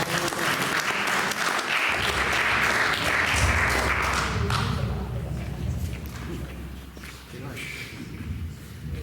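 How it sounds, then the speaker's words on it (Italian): An audience at a poetry evening bursts into sustained applause for a performer, dense clapping rising strongly then tapering off, with a few thumps and voices mixed in. "Un applauso a Roberto."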